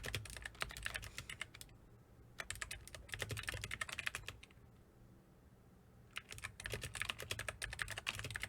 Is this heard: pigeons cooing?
no